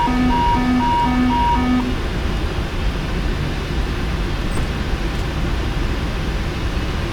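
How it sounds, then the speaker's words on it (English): Repeating electronic two-tone chime of a takeoff configuration warning in a PMDG 747 flight simulator, beeping in a steady pattern for about two seconds over constant loud cockpit and engine hum. "We're getting a configuration warning."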